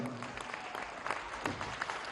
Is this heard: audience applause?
yes